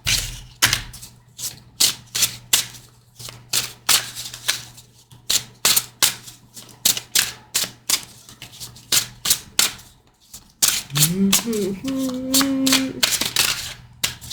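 A deck of thin tarot cards being shuffled by hand, a fast run of sharp, close riffling slaps and taps in uneven bursts, with a brief pause and a faint low sound near the end.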